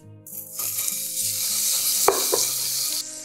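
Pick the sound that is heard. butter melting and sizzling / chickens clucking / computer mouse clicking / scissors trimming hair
butter melting and sizzling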